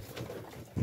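Pigeons coo softly in a loft, with a low, muffled coo that swells near the end over steady background noise.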